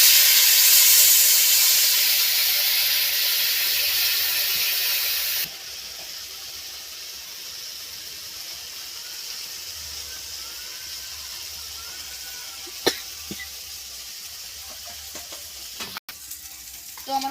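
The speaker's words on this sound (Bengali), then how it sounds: "লঙ্কা গুঁড়ো, 2 থেকে 3 মিনিটের মতো ভালো করে কষে নেব" Spices and chili powder fry in oil in a pan for a koi fish curry, a loud broad sizzle that drops to a quieter steady hiss partway through, with occasional clicks and scrapes, no speech.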